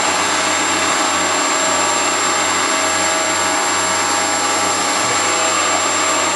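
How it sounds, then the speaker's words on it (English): Steady, loud machining noise from a lathe rough-milling the electrode end of a spark plug, a continuous broadband whir with no breaks and no voices. "Rough milling the electrode end of it."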